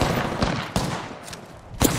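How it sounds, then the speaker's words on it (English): Gunfire in Apex Legends, several sharp shots spaced irregularly across a couple of seconds, fairly loud against a background of game noise. "I'm taking fire."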